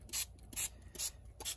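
Four short bursts of a small handheld spray bottle misting water to dampen a fabric or paper journal cover, each hiss lasting about a quarter second, evenly spaced and fairly close with quiet gaps between.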